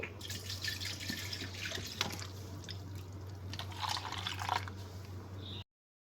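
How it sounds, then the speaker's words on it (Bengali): Water trickles and drips steadily into freshly blended mint leaf paste for a mint sherbet, a thin splashing stream running for several seconds over a low steady hum, with no talking. "আমি এর মধ্যে জল দিয়ে নিয়ে নিচ্ছি"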